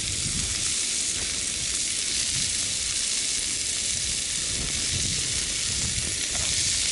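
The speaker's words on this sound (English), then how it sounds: "I've got 200 grams of minced steak. That's going in now." Minced steak, 200 grams, frying with softened onion on a camp stove outdoors, giving a steady, loud, close sizzle with no pauses.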